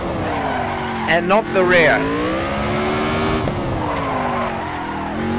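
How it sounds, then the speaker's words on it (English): Car tyres skid and squeal as the front wheels lock under braking near the limit on a 50-meter circle, a brief loud screech over engine noise while someone talks throughout. "tap the brakes, and there we go. We can actually see the front is locking up"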